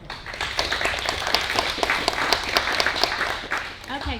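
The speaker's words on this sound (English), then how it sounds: "Another round of applause." Another round of applause from the audience at a November community meeting, dense clapping that swells and holds, with voices talking over it toward the end.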